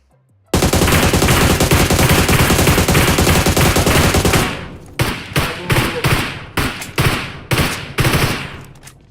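Loud, close automatic gunfire in PUBG Mobile, one long sustained burst followed by a run of shorter rapid bursts with brief gaps between them, no talk over it.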